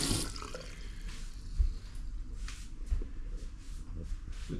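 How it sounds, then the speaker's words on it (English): Water runs steadily from a tap into a sink in a remodeled cabin bathroom, a continuous close hiss and splash with no talking. "Water's on."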